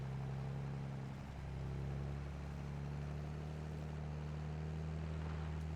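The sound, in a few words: tractor pulling a wagon in Farming Simulator 22 (video game)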